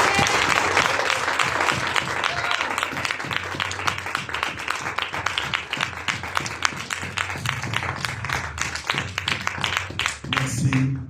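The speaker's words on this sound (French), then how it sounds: "you can clap for him" A church congregation claps together, a dense and sustained round of applause that keeps going at a steady level, with voices faintly mixed in.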